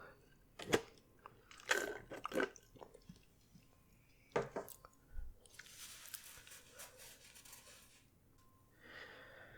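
Burger King fries chewed close to the mic, a series of soft crunchy bites and mouth sounds with quiet breathing between, no talking.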